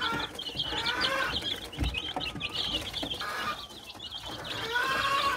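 Chickens crossed from White Leghorn, Elba and Australorp cluck and chatter close by in a continuous busy stream, with overlapping calls from several birds and no talk.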